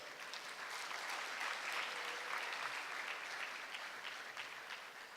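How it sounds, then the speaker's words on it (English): An audience applauds the moderator at a United Nations Public Service Awards ministerial roundtable. The clapping is steady and sustained, a soft, even wash heard from some distance that holds for about five seconds before easing slightly. "may I request you to give a big clap"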